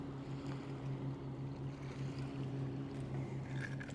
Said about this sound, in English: There's a fast speedboat. I should tell them to slow.